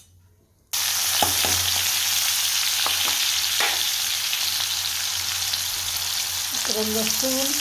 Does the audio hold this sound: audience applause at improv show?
no